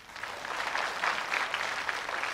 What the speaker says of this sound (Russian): 6 букв. Аплодисменты.